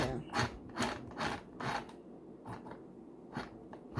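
A tiny green sewing machine stitching: a faint, rhythmic mechanical clatter of regular ticking bursts, about two per second, with quieter gaps between them.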